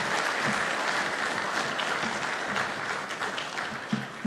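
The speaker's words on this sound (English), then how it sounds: "I think she deserves a better round of applause than that" A crowd at an Accra health gathering applauds steadily, a dense, even wash of clapping at moderate loudness holding for several seconds, with a few louder individual claps near the end.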